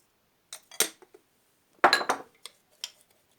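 Utensil mixing potato filling in a bowl, a few scattered clinks and scraping knocks in two short bursts separated by a pause.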